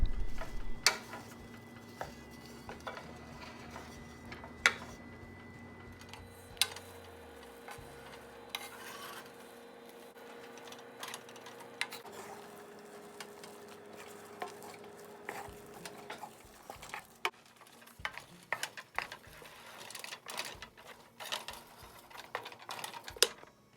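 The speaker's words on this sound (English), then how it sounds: "continue to stir them around over low heat until they are completely melted and smooth and incorporated with the butter" Marshmallows and butter being stirred over low heat in a pot, soft and quiet, with scattered ticks and light scrapes of a utensil against the pan and a low hum throughout.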